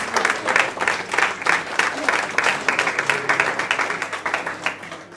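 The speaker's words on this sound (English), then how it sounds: "Give him a round of applause" At a club presentation night, an audience applauds as the youth team manager is invited up. The clapping is steady and fairly close, with a slight pulsing rhythm and possible voices beneath it.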